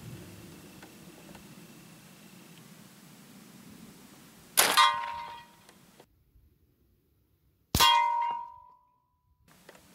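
Two sharp, loud shots from a B&W S45 .45 caliber semi-automatic air rifle, each a sudden crack with a brief metallic ring that fades quickly, spaced about three seconds apart over quiet outdoor background.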